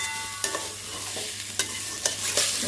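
Foxtail millet and polao rice being fried with ghee in a pan: a steady soft sizzle with spoon scrapes and stirring strokes every half second or so, close and clear.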